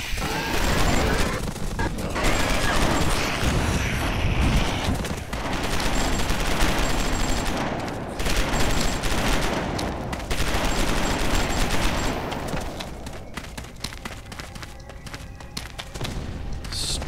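Dense video game gunfire in Starforge, rapid bursts of shots and impacts rattling almost continuously, loud and close with brief lulls between volleys.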